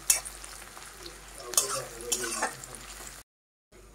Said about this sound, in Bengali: তো পেঁয়াজটাকে একদম লাল লাল করে ভাজা হয়ে গেছে